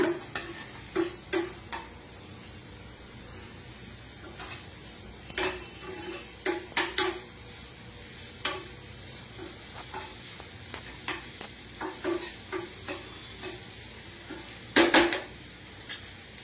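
Food fries quietly in a pan toward golden brown while a spoon scrapes and taps against the metal in irregular clinks over a faint, steady sizzle.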